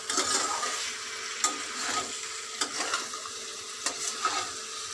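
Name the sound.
jackfruit stir-frying with spice paste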